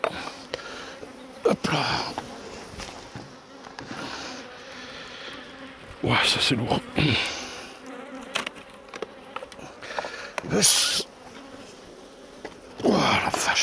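Bees buzz steadily around an open hive, with faint handling noises and brief murmured talk now and then.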